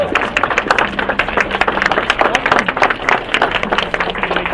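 Audience applause at a live program: dense, steady clapping from many hands fills the whole stretch, loud and close, with no talk.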